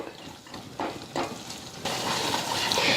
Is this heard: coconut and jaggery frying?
yes